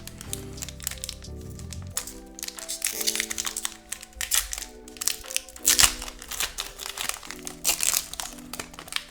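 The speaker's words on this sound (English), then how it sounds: "let's open some Pokemon cards" Foil wrappers of Pokemon TCG card packs being torn open and handled, with close crinkling and crackling that comes in bursts, sharp rustles and snaps over a quiet background with some music-like tones.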